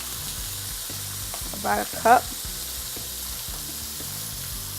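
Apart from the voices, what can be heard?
beef frying in a pan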